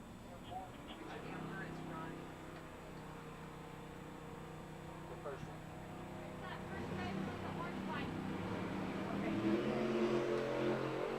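Bracket drag racing cars, including a Studebaker, stage and launch down the dragstrip, engine roar building under an announcer's continuous commentary.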